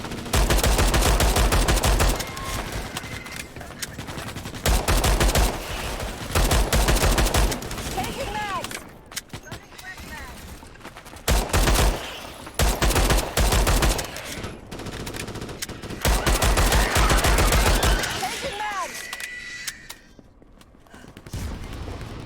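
Sustained bursts of automatic machine gun fire in the sci-fi shooter game Starship Troopers: Extermination, loud and dense, broken by brief pauses, with voices talking between and over the gunfire.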